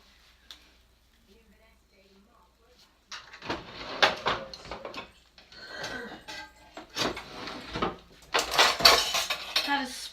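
Spoon scraping and clanking against a cooking dish while digging out ratatouille, starting quietly then building into repeated loud metallic scrapes and knocks close by, with a voice talking at times.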